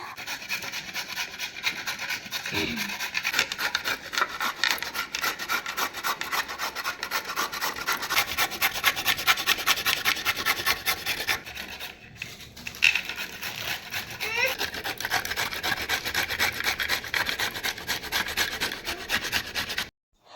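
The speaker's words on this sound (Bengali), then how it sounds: "এখন গ্রেটার দিয়ে ভালো করে সবজিগুলোকে গ্রেট করে নিব" Vegetables are grated by hand on a grater in a home kitchen, a continuous rhythmic rasping scrape of rapid strokes, close and steady, with a brief pause partway through.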